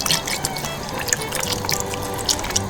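Chicken stock pours and trickles into a pot of potatoes for Irish Dublin coddle, a steady liquid splashing with intermittent drips, close and moderately loud, with no talking.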